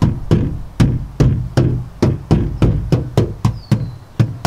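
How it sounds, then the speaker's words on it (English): A hand knocks repeatedly on the front door panel of a Toyota Highlander, about a dozen firm, evenly spaced hollow thumps close up with a short resonant decay, no talking. "This is the sound of the front door."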